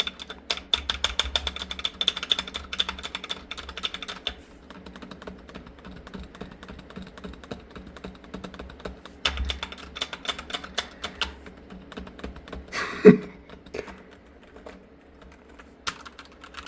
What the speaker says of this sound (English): The spacebar is always the most obnoxious